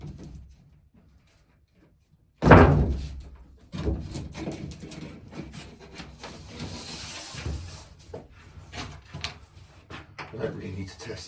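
A narrowboat ceiling panel pushed into place gives one sharp, close plunk, followed by softer knocks and handling noises as fitting work continues nearby.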